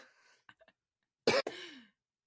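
A single sharp cough, preceded by faint throat noises and short breathy clicks and followed by a trailing groan-like exhale, close and otherwise quiet.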